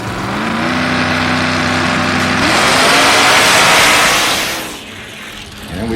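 Heads-up drag race cars launching down the strip, a loud, sustained engine roar that climbs in pitch as they accelerate, then fades quickly as they pull away into the distance.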